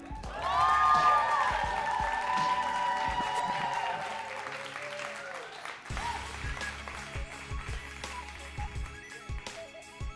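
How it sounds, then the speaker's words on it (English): Live audience at a spoken-word poetry event applauding and cheering as a performer is welcomed, loud clapping with whoops that swells at the start and then gradually thins out over about ten seconds. "So please welcome him warmly. Let's clap it up, y'all"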